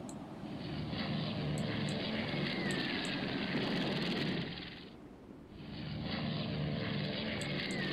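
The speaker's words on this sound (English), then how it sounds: "They're torpedo bombers" Torpedo bomber aircraft engines in the naval strategy video game Rule the Waves 2 roar in a steady droning wash, dipping briefly midway before swelling back to full strength.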